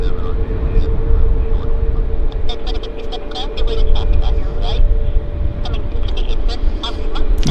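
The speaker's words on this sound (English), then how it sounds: "another successful aircraft departure for ANA" An ANA airliner departs Vancouver airport bound for Narita, its jet engines a loud, steady broadband roar that holds without a break throughout.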